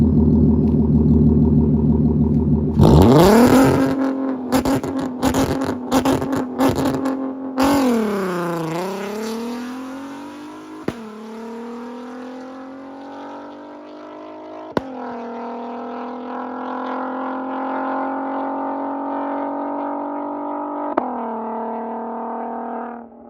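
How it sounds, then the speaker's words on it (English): A catless, straight-piped Volkswagen R32 starts at a loud idle, then sharp rapid revs that rise and drop several times, followed by a long climbing pull with gear changes that briefly cut the tone, close and very loud. "here is a fully Catless straight pipe R32 Volkswagen"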